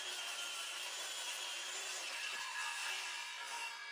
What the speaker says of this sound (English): I'm going to use this other piece of plywood as a fence to use a circular saw along